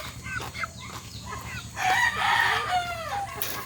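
A rooster crows loudly and close by, with a few short clucks before the full crow and a faint voice in the background.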